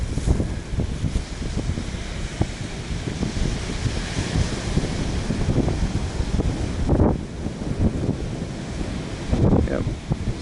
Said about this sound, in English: Listen to the ocean.